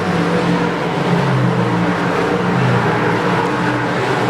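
Dirt track race cars roar around Lonestar Speedway during the final laps of a Saturday night race, a loud, continuous wall of engine noise close by.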